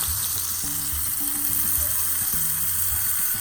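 Hot tempering of red chillies in oil crackles and sizzles as it is poured into mashed spinach, a loud, close, continuous hiss with faint stirring knocks underneath.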